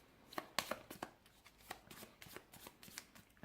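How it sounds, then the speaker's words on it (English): A deck of cards is shuffled during a tabletop game, giving a quiet, close run of crisp riffling bursts and soft flicks over several seconds with no voices. "you shuffle the deck"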